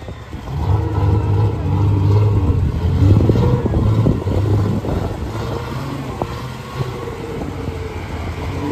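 Off-road car in a mud trophy sprint, its engine droning and revving steadily at mid distance, with faint voices in the background.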